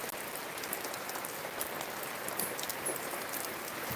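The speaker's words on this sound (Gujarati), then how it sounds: "વરસાદ ચાલુ જ છે હજી જોવો" Steady rain falling on a village, a dense patter of drops on surfaces with occasional louder splashes, continuous throughout with no voices.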